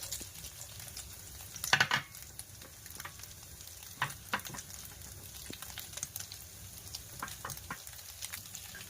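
Carrots stir-fry for fried rice in a hot pan with a soft, steady sizzle, broken by scattered scraping and clinking strokes from stirring, faint and close.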